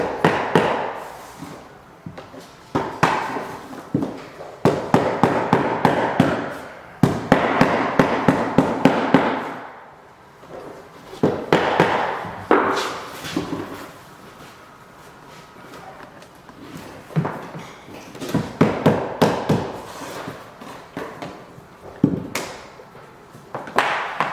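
Vinyl plank flooring joints knocked with a scrap offcut during a floor installation, giving bursts of rapid hollow taps in quick series with short pauses between, close and fairly loud.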